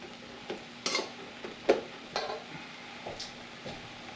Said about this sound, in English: Stir that up, mix that about